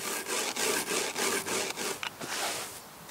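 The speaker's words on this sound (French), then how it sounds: "on frotte les ombelles à la main et on écrase les capsules à l'aide d'un rouleau à pâtisserie" Leek seed heads are rubbed by hand and the capsules crushed under a rolling pin, making faint, rhythmic dry scraping and crackling strokes close by.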